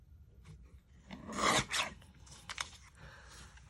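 A paper trimmer slices patterned Halloween paper for a fun fold card, giving a short raspy cutting stroke followed by a few lighter scraping sounds, quiet and close with no voices.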